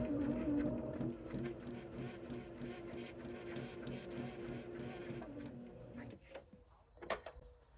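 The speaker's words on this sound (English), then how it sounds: "we're going to stitch on that line" A sewing machine runs steadily while stitching a quilt block seam, giving a quiet rhythmic mechanical whir that stops near the end, followed by a few light clicks and handling noises.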